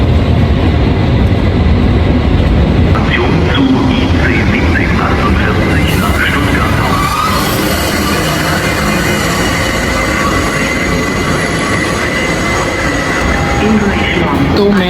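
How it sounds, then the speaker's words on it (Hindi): A Eurostar train bound for Paris makes a loud, continuous rumble and roar in a station, close and heavy throughout, with people talking over it. "This is a new train. मैंने पहली बार देखी. पेरिस जा रही है."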